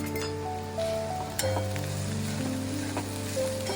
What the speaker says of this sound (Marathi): त्यामध्ये घालून घेते आणि छान असं परतून घ्यायचं आहे